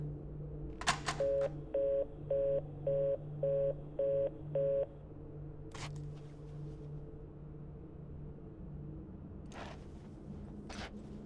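A cell phone dialing in a video game: six evenly spaced keypad tones in a steady beeping row over a low hum, followed by sparse clicks and soft noises.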